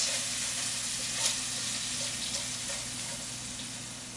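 Bacon sizzles and fries in its pan drippings, a steady close crackling hiss that continues through the clip with a few faint clinks and no talk.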